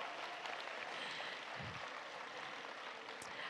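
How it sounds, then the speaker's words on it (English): Steady applause from an audience for child performers and teachers at a Christmas program, fairly soft and distant, a continuous patter of clapping with a brief low thump partway through. "Let's give all of our performers and our teachers a big round of applause."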